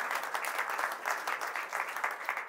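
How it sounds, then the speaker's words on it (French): Political rally audience in Sartrouville claps for a campaign speaker, dense even applause at a fairly soft level, sustained with slight swells and no voices over it. "Oui, on peut l'applaudir."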